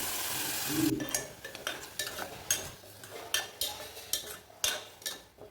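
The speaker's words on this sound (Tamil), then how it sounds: "பச்சை வாசனை போகிற அளவு நல்லா வதக்கிக்கலாம்" A utensil scrapes and taps rhythmically against a pan while a ground paste sizzles softly underneath, for Kovai-style rice and lentil rice, the stirring strokes coming steadily about twice a second.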